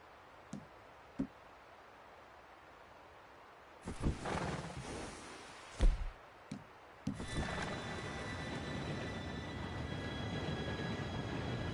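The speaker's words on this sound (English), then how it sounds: "Train should be here any minute now." A train arrives in a PS4 video game. A few faint clicks come first, then clanking bursts, and finally a loud sustained rumble of rolling wheels with a high metallic whine that keeps going to the end.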